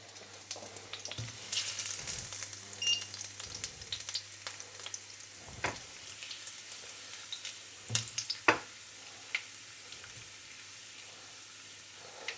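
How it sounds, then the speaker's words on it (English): Garlic cloves frying in hot olive oil, a soft steady sizzle with scattered crackles and a few sharper pops and stirring clicks, close and fairly quiet over a low hum. "now the oil's hot enough, we're going to put in the garlic"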